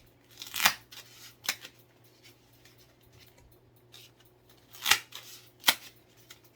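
Scissors snip through material at close range, with a few separate sharp cuts spaced out over several seconds and quiet pauses between them.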